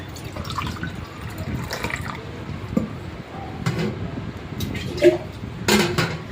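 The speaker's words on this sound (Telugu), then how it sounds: "వేస్తున్నామండి. ఇలా 4 గ్లాస్ వాటర్" Water pours and splashes into a metal cooking pot in uneven bursts, about four glasses' worth, with clinks of the vessel and a few faint drips.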